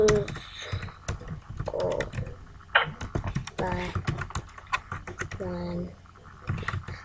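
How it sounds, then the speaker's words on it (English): Keyboard typing with rapid irregular clicks and key taps, mixed with a person talking throughout at close range. "I'm typing them."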